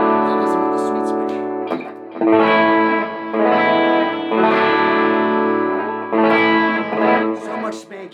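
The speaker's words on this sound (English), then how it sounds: "Now listen with the sweet switch." Distorted PRS electric guitar with the sweet switch on strums chords in loud bursts with brief pauses, a bright, biting overdriven tone ringing out between hits.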